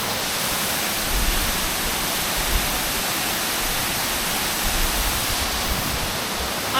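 A forest waterfall in Mindo roars as a dense, constant broadband rush, close and loud throughout with no breaks.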